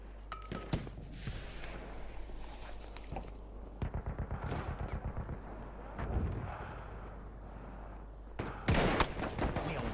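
Gunfire in the shooter game Battlefield 1, close-quarters combat in a building: a rapid burst of sharp shots in a regular rhythm, with scattered single bangs before and after, over a dense battlefield background.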